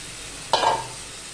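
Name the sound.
lote fish added to hot masala, sizzling on medium gas flame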